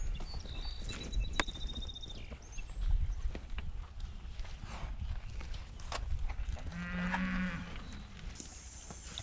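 Herd of cows at a barnyard gate, with several loud moos close by, including a long low bellow near the end, mixed with hoof clatter and shuffling, and no talk.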